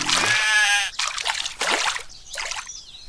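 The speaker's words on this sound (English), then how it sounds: "Get rid of that sheep, guys." Sheep in the video game Craft The World let out a loud, wavering bleat up close, followed by splashing, trickling and chopping sounds in quick bursts.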